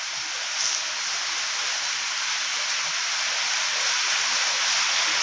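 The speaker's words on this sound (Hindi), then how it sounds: "बारिश अब तेज हो रही है, आवाज़ कुछ ज़्यादा आ रही है।" Steady, dense hiss of heavy rain pours continuously without pause, loud and even throughout.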